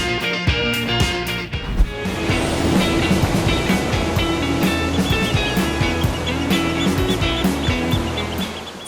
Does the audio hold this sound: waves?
yes